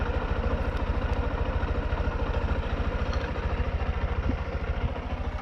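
A Honda CB125F motorcycle engine idles close by with a steady, rapid low thumping pulse that holds an even rhythm throughout, no voices over it.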